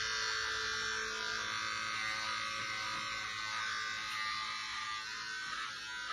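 Electric hair clippers buzz continuously at close range throughout a haircut, a steady, even hum with no pauses and no voices.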